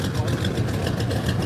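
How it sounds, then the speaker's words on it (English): An old flathead motor idles steadily at an outdoor old-school car show, a low continuous rumble with crowd noise and voices around it. "Hey, that's a flathead motor"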